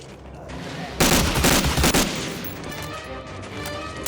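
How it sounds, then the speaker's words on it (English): Dense burst of rapid gunfire in the Medal of Honor Warchest video game, a loud fusillade for about a second surrounded by quieter background game noise. "Are you fucking shooting me?"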